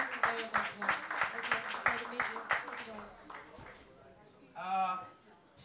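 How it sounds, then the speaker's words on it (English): An audience at a school growth and marketing conference applauds a speaker with a burst of close, scattered clapping that fades out, followed by a short spoken phrase. "Let's clap for her, please."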